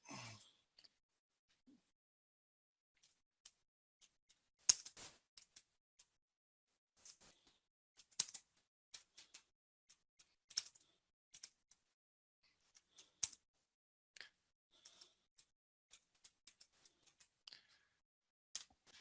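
Light tapping on a phone screen while entering figures into a margin calculator app: sparse, quiet clicks and ticks in irregular bursts over nearly twenty seconds, close up with no talk.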